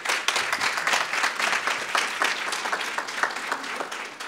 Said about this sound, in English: I think we should give these guys a round of applause for that